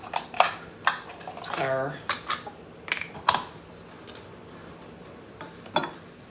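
A small metal camping stove kit from a winter survival kit being handled, with light tinny clinks and taps in an irregular rhythm, one rattling scrape, and a brief word spoken nearby.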